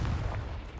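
Confringo spell cast in Hogwarts Legacy, a short booming blast with a rumbling low-end burst, loud and close, fading over under a second.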